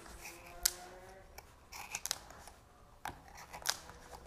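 Scissors snip through stiff corrugated plastic sheet in a few sharp, crunchy cuts with pauses between, close and fairly quiet.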